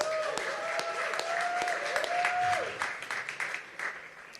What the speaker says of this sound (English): let's give a big round of applause for that